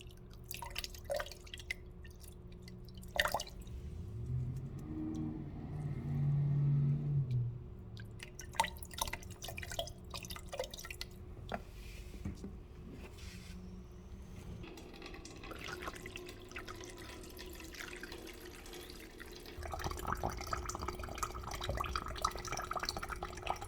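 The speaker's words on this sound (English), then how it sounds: "Pour some distilled water over it." Distilled water poured over a motorcycle radiator cap during a coolant flush on a Husqvarna Svartpilen/Vitpilen, faint trickling and scattered drips with a brief pouring splash, close and quiet.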